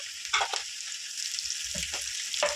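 Ginger paste fries in oil for a bitter gourd yogurt curry, with a bright, continuous sizzle close by and a few soft stirring knocks, no voices.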